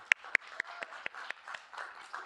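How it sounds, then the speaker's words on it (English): A few people at a student involvement gathering clap for two individuals, sparse, distinct claps with gaps between them, a couple of sharp ones at the start, then lighter scattered hits. "a round of applause to those two individuals"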